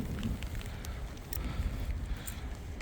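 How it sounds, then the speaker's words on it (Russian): Wind blowing steadily across a bay of the Irtysh river on a rainy day, a continuous low rumbling roar buffeting close to the microphone with no speech. "Ветер дует, но поменьше."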